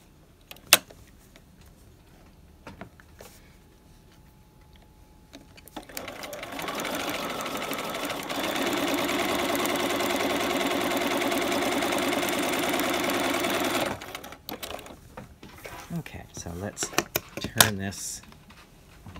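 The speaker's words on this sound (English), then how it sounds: "we're gonna come back here and sew down the other way to make that" Sewing machine stitching piping around a fabric corner, a quick start-stop burst followed by a steady, loud run of stitching for several seconds, then brief spurts, with a person talking before and after.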